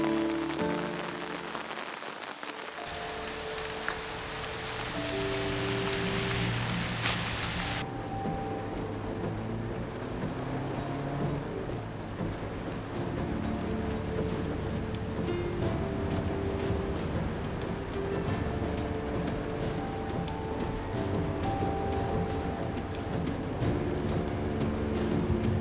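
Heavy rainstorm with thunder in a Turkish drama scene: a loud, continuous downpour roars throughout, with deep rolling rumbles and soft background music tones running beneath it.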